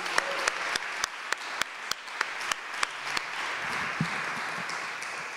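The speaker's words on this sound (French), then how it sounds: "on peut vraiment l'applaudir une autre fois" An audience at a culture and business networking evening applauds steadily, with dense, continuous clapping and a few sharper individual claps standing out, fading slightly near the end.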